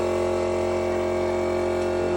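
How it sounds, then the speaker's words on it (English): Air compressor running nearby to inflate inflatable toys, giving a loud, steady motor drone with a dense, rough hum that holds unchanged throughout, with no talk over it. "Bloody compressors, they're so noisy."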